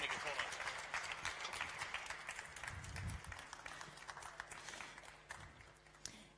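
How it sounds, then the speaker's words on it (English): Audience applause for space startup pitch presenters on stage at a Nordic-Baltic event, a steady wash of clapping with scattered sharper claps, fading slightly toward the end, with some voices mixed underneath. "give them a big applause"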